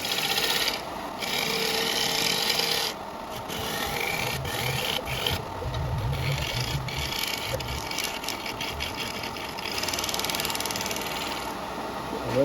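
Woodturning gouge cutting a cracked wooden bowl spinning on a lathe, a loud, close, continuous rasping scrape with a brief dip and irregular bumps from the tool bouncing over the cracks.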